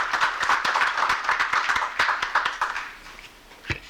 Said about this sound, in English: Her little clap is so cute.